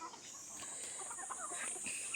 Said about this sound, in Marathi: उलटं पिसावाले पिस कोंबड्या आहेत गावठी आहेत